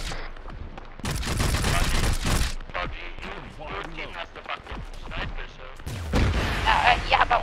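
Explosive gunfire in the military shooter ARMA 3, played with a Half-Life mod, comes as loud overlapping bursts of shots and booming blasts, interrupted by a short lull before another heavy volley.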